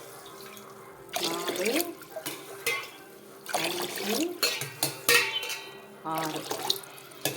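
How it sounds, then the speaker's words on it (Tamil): Water is poured from a cup into a pot for wheat payasam in several separate splashing bursts, close by, with a voice counting along between pours. "அதே கப்புக்கு 6 கப், எந்த கப்புக்கு போட்டோமோ அதுக்கு 6 கப் தண்ணி நம்ம ஊற்றி வேக வைக்கிறோம்."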